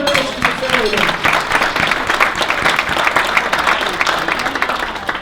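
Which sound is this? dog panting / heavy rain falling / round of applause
round of applause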